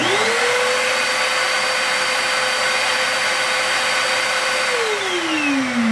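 An Eye Vac stationary vacuum switched to auto mode whirs up quickly into a loud, steady, high-pitched motor roar that holds constant, then winds down near the end as the motor slows.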